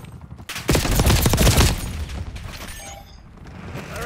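Dense volley of rapid gunfire in a Call of Duty firefight, a loud burst of overlapping shots and booms that peaks then fades into lingering battle noise.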